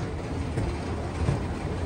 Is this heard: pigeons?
no